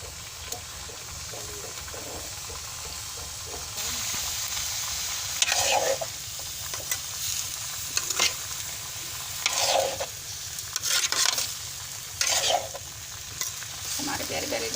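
Turnips fry in a pan with a steady broadband sizzle, while a spoon repeatedly stirs through them in bursts every couple of seconds, close and fairly loud, with no voices.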